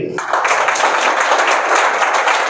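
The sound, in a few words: group clapping hands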